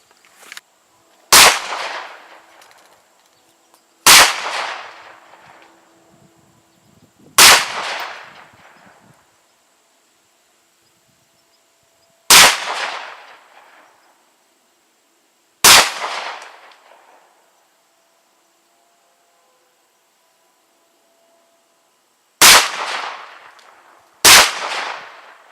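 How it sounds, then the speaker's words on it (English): A Hi-Point C-9 pistol fires about seven loud, sharp shots outdoors at uneven intervals, each cracking close and trailing off in a short echo, with quiet between them. "I just fired 8 rounds out of it"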